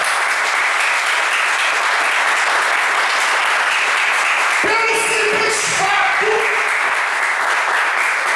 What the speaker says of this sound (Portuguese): Uma salva de palmas abençoada.